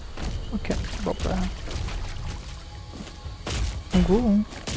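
A waterfall in the video game DOOM The Dark Ages sends out a steady rushing wash, with someone talking over it and tonal game sounds briefly rising toward the end.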